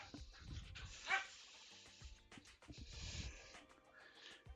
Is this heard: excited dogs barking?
yes